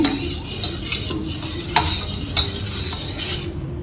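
A spoon stirring homemade hair oil in a pot before it is poured into bottles, steady scraping and swirling with a few sharp clinks against the metal, close and alone.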